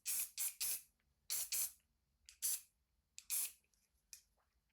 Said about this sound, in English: So what I will do is I'm going to grab some hairspray.